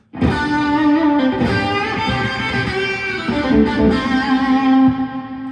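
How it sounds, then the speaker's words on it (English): An electric guitar rings out through a Carl Martin Headroom Mini set to a long plate reverb with a bright, crisp, lingering decay. A few loud strummed chords and notes sustain and overlap, with nobody speaking. "kind of a long plate effect, you know, with that high and crispy long reverb decay"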